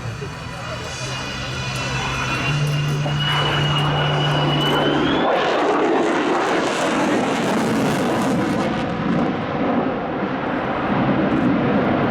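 F-35C Lightning II fighter jet flying at an air show, trailing heavy vapor: a steady engine whine shifts in pitch before swelling into a broad roaring rush as it passes, while an announcer talks over it.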